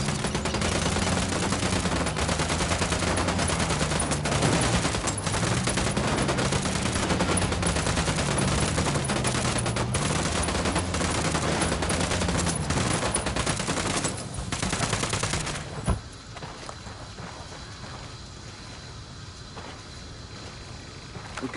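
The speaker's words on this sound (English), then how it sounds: "Open fire" Sustained heavy automatic gunfire in Ghost Recon Wildlands, a continuous loud barrage of overlapping rifle bursts lasting about fifteen seconds before cutting off into quieter background noise.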